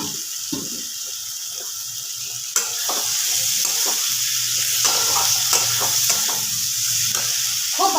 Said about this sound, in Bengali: এবার আমি এতে দিয়ে দেব ভাজা আলুগুলো।